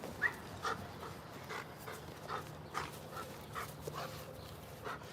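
A German Shepherd pants softly and rhythmically nearby, quick breathy puffs repeating steadily in an otherwise quiet room, with a faint whimper-like tone at moments.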